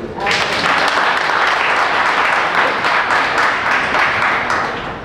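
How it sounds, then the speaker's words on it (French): Guests at an official wedding ceremony in Brazzaville burst into sustained, dense applause that fills the whole stretch at steady loudness, with crowd voices mixed into the clapping. "ce mariage a eu lieu, applaudissez."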